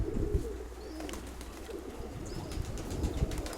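Domestic pigeons in a loft coo in low repeated calls, with scattered wing flaps and shuffling nearby, dense and close with no voices.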